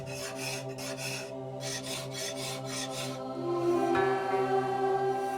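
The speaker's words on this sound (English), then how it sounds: "The remaining marks left by the grinder are removed with the draw file." A draw file scrapes along a forged steel katana blade in steady back-and-forth strokes, a rhythmic rasping over a low, constant hum, close and moderately loud, with no talking.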